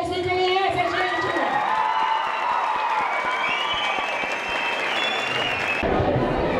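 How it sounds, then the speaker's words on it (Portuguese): Warm applause from a crowd at a school's 30th anniversary party, with scattered cheers, continues throughout while music plays along underneath. "quero uma salva de palmas bem calorosa, gente!"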